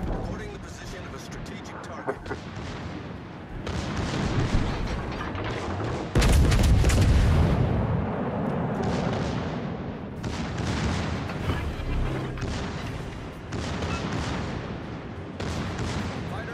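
In World of Warships: Legends, a destroyer fires on a battleship amid booming naval gunfire, repeated heavy blasts and explosions at irregular intervals, one especially loud impact midway, with someone talking over the action.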